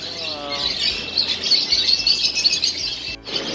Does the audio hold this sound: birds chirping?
yes